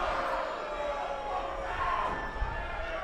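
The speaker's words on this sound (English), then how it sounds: "Very aggressive woos again from the crowd." Crowd at an independent pro wrestling show in a small venue making loud, aggressive drawn-out woos, a continuous roar of many voices heard from within the audience.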